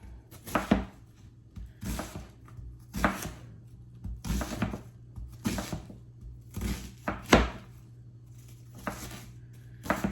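A knife roughly chops an onion on a cutting board, giving about a dozen crisp, close thuds at a steady but slightly uneven pace, with quiet gaps between strokes and no voices.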